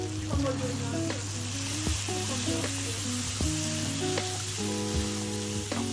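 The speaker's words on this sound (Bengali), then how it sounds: "এরপর একটু নেড়ে চেড়ে মিশিয়ে দিলাম।" Hilsa fish curry with beans and potatoes being stirred and mixed in a pan, continuous close sizzling under repeated scrapes and clinks of the spoon against the pan, with a steady low hum underneath.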